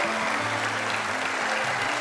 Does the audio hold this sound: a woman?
yes